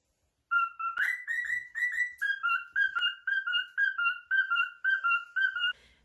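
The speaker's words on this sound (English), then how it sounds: "he sings and he loves to whistle songs on my shoulder" A pet cockatiel whistles a tune up close, repeating short bright two-note phrases in a steady rhythm about a dozen times, with no other sounds.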